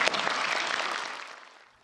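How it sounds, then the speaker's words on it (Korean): A brief burst of applause at a government ministry briefing with the president, a crowd clapping together then fading out quickly within two seconds. "박수도 한번 치세요."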